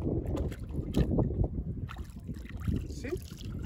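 Paddle strokes pushing a boat through water on a trip in Gambia, irregular splashing pulses mixed with wind buffeting the microphone, while someone speaks intermittently nearby.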